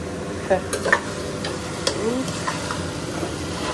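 Chicken sizzles in a pan while being stirred and browned, with steady frying hiss broken by sharp clinks and scrapes of the spoon against the pan, close up and without speech.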